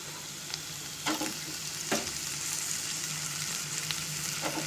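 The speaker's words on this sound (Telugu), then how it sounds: "ఇలా చిక్కుడుకాయ కూడా వేగాక కాస్త పసుపు వేసి ఆలుగడ్డ ముక్కలు వేసేసుకోవచ్చు" Broad beans and potato pieces frying with turmeric in a pan, a steady soft sizzle with a few spoon scrapes and clinks, close and fairly quiet, no voices.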